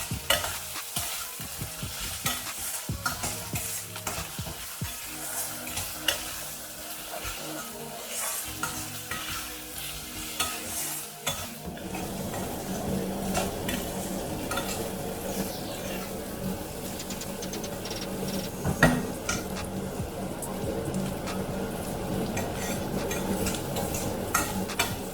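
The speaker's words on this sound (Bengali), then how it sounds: "রসুন, আদা আর পেঁয়াজ এবারে ভালো করে কষিয়ে নেব" Garlic, ginger and onion paste is sautéed in a pan for a chicken dish, with busy scraping and clattering of a spatula at first, then a fuller continuous sizzle with intermittent stirring, close by.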